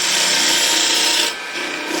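A woodturning gouge cuts a hollow lid spinning on a lathe, giving a steady, close, dry scraping rasp of steel on wood that eases slightly as the tool draws slowly outward.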